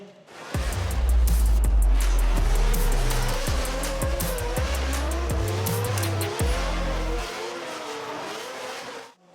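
Drift cars in the Drift Masters finals in Poland scream past with high-revving engines, gear-change dips and long, wavering tire squeals, loud and sustained for about eight seconds before fading.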